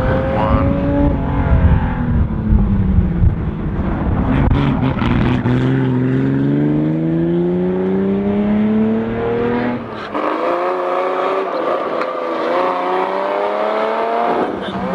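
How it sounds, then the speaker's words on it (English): GMC Jimmy special rally car at Targa Tasmania 2018 accelerating hard, its loud engine climbing through gears with rising harmonic sweeps, a shift near the midpoint and another run upward, close and continuous for fifteen seconds. "Graham Copeland, the GMC Jimmy."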